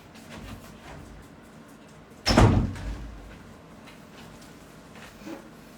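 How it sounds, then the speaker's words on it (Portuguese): Close by indoors, a door is pulled open with a sudden loud thump and rattle that quickly fades, set against quiet room noise. "deixa eu só abrir a porta pro Lelê"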